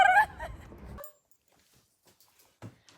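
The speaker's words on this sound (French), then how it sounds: "c'est son chien, il s'appelle comme ça parce que c'est un petit chien" Small dog giving a short whimpering yip at the start, followed by near silence with a few faint scuffs and a brief soft sound near the end.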